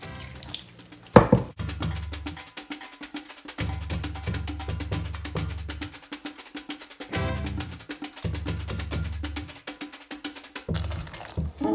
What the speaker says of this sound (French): vous rajoutez 300 ml de lait